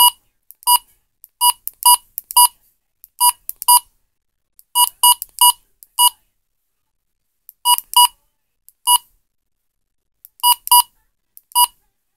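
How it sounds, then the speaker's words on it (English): Midland HH54VP weather radio sounding its alert: clusters of two to four sharp, close electronic beeps repeating with short gaps, clean and alone with no talk. "Beep."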